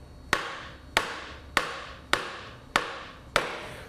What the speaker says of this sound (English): I want to force with the dead blow hammer that main shaft inward